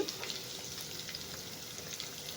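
Onions sizzle and crackle steadily in hot oil as they are stirred, the base for a squid gravy; close, even frying noise with no voices.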